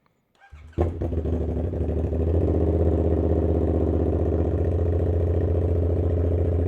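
A 450ss motorcycle engine starts on stock tune with a quick crank, catches, and runs into a loud, close, steady idle with a deep throbbing rumble that holds through to the end.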